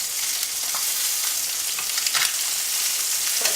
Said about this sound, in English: it's not sticking to the bottom of the pan, which means that it's getting nicely brown